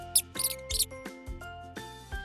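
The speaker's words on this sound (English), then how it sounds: "Mouse." A mouse gives a quick series of high, thin squeaks in short rhythmic bursts, clear and close with no talk over them.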